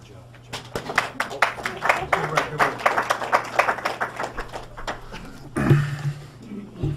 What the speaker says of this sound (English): I'll clap for you.